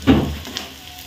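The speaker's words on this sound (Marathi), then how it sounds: "तर आपण खोबरं घालू आणि खोबरं पण भाजून घेऊया." Grated coconut and onion roast in a pan, with a short burst of sizzling and a scraping stir near the start, then a softer frying hiss.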